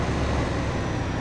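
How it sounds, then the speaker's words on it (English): Steady low engine rumble of a tractor driving in Farming Simulator 15, a continuous broadband drone with no breaks, alone without talk. "So let's put the tractor right here."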